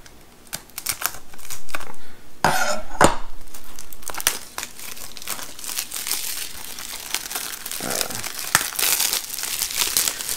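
Plastic shrink-wrap crinkles and tears as it is pulled off a Days of Thunder 30th anniversary Blu-ray case, with close, busy crackling bursts and a louder rip near the start.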